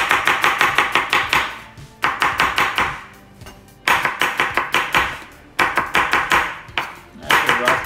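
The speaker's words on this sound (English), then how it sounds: "that's a rough chop." A knife rough-chops onion for a cucumber, tomato and onion salad on a board: quick rapid bursts of sharp close taps in several runs, separated by short pauses.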